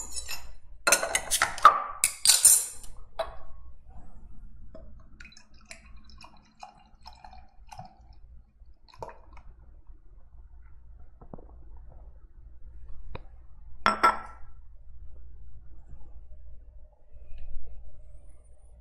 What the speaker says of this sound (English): let's let the genie out of the bottle here and get this in the glass